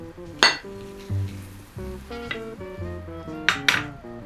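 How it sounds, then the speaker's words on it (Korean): A plate and frying pan clink and clatter as a Spanish potato omelette of potato and egg is flipped, with a few sharp ringing knocks spread over several seconds above a quiet background. "위에 접시를 올려준 다음에 한 번에 뒤집어 주세요"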